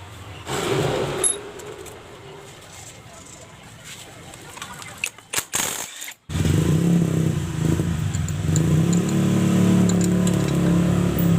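A Honda Vario Techno 125 Fi scooter with a rough-running engine idles and revs nearby, a coarse rattling drone that briefly cuts out before returning louder and steady.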